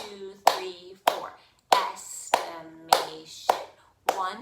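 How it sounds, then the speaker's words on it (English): Hands clap out the four syllables of a word, done twice, with sharp, close, evenly spaced claps and a voice speaking softly between them. "Let's clap that word out."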